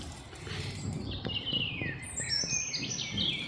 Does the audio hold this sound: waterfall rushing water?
no